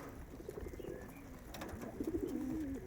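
Young pigeons cooing softly in a loft, low murmuring coos that swell and grow louder toward the end, with no talking.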